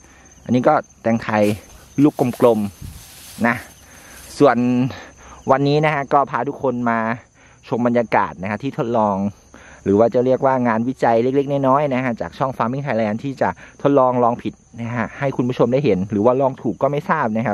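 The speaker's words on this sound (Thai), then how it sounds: "บรรยากาศวันนี้เสียงจิ้งหรีดจิ้งหลอด" A steady, high-pitched cricket trill runs throughout, continuous in the background beneath someone talking almost nonstop.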